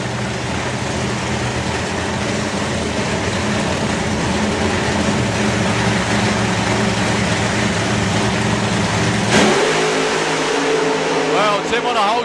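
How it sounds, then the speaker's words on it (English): Modern-day nostalgia funny cars roar continuously and loudly as they run down the drag strip at the Euro Finals Shootout. The engine note changes abruptly near the end. "modern day nostalgia funny cars,"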